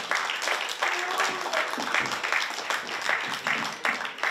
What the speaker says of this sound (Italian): Fate un applauso al nostro arbitro numero uno.